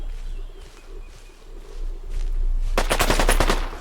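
Rapid bursts of automatic gunfire erupt in a shooter video game, starting quietly and swelling into a loud, close volley in the final second.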